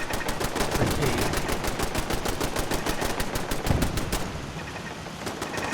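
Sustained automatic gunfire in Fallout 4, a rapid steady stream of loud shots close by that keeps going for several seconds, then thins to a few scattered bursts near the end.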